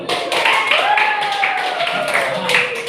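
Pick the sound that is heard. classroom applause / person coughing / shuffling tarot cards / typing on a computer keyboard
classroom applause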